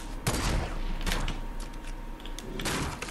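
Gunfire in the video game Fortnite, with sharp bursts of shots at the start, around the middle and again near the end over a steady background of game sound.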